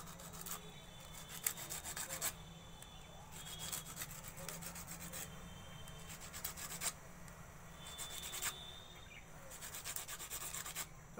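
A lotus seed is rubbed back and forth on a rough surface, giving soft, rhythmic rasping strokes that come in regular bursts, close and quiet, with no talking.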